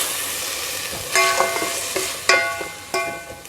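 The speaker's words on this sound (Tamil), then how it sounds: "இப்படி லைட்டாக ஒரு 5 நிமிஷம் வதங்க விடுவோம்" Ingredients for a mild chicken korma sauté in a pan: a steady, close sizzle, interrupted by a few sharp metallic clanks and scrapes of stirring, with no voices.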